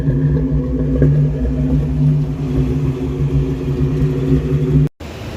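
A rough-running carbureted Mustang project car engine idles steadily up close, a low uneven rumble that cuts out abruptly for a moment near the end before resuming.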